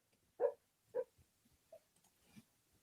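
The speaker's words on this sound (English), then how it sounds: "Dog's having a bad dream." A dog dreaming in its sleep gives two soft, muffled woofs close together, then quieter whimpers and faint huffs, all low in volume with no talking.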